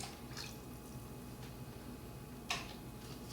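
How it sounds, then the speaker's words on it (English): Chicken stock ladled from a pot into containers, faint soft liquid splashes and a sharper clink near the end, quiet and sparse over a low background hum. "I want to use a ladle to transfer it to my containers."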